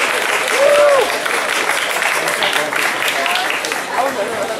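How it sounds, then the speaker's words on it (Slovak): A large outdoor crowd at a Pride event in Bratislava applauds steadily, a broad wash of clapping with scattered cheers and talk mixed in. "ešte raz veľký potlesk"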